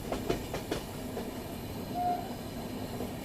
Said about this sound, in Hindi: अभी अपनी ट्रेन पहुंच रही है थ्रिसूर रेलवे स्टेशन में